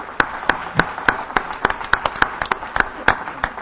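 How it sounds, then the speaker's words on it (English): Audience at a positive psychology seminar at Amity University Jaipur claps for the organizers, a sparse, fairly close ripple of individual hand claps in an uneven rhythm with no talking. "I would like to give a clap from all of us to the organizers"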